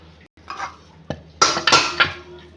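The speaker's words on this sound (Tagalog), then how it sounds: "Hiwain ko siya sa gitna para magdalawa." A sandwich is cut in half with a knife while being made, giving a few short, close scraping and clinking cuts against a plate or board, with one sharp tap partway through and a dense burst of slicing noise near the end.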